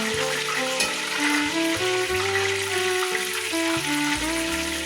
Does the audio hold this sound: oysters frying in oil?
yes